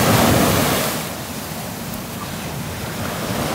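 Ocean surf rolls in at Bells Beach, Australia, a steady broadband wash of breaking waves heard from a clifftop lookout, with some wind buffeting the microphone.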